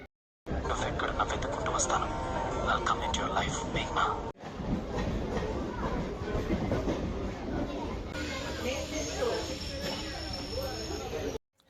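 A passenger train in Hyderabad runs toward Necklace Road on a cold evening with a steady rattling rumble and faint clatter, under indistinct murmuring voices.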